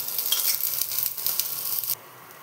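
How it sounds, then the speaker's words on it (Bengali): Chopped garlic and chilli fry in a pan with a steady, fairly loud broadband sizzle that stops abruptly near the end, no voices present. "বেশ খানিকটা কুচনো রসুন দিয়ে দেবো, এটা ভেজে নেব।"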